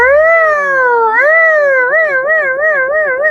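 A voice imitates an ambulance siren, a sustained wailing tone that slides down slowly, then wobbles up and down in quick warbles.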